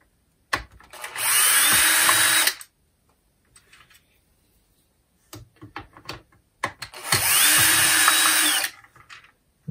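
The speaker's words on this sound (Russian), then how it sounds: "давайте открутим вот эти два винта" A Makita DCF203 impact driver's housing screws being backed out with a power driver: two loud, sustained whirring bursts, each about two seconds, separated by quieter clicks and handling noises.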